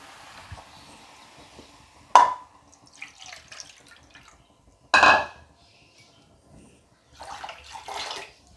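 Water poured into a bowl of jaggery while making gooseberry jam, in a few short splashing pours separated by quiet pauses, with faint clinks of the bowl and no talking.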